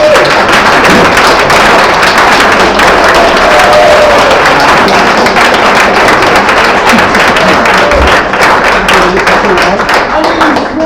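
A standing audience applauds Ed and Mike with loud, continuous clapping and cheering that fills the room for the full stretch, with some voices mixed into the crowd noise.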